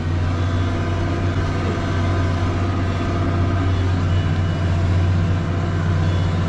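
A New Holland T7 290 tractor pulling a Lemken Diamant 11 plough across a field, its engine a steady, loud, continuous drone with an even low hum throughout and no voices.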